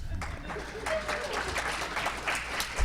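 Studio applause from a canned cheering section in a medical podcast, a steady broadband patter of many hands clapping throughout, loud and close with no talk over it.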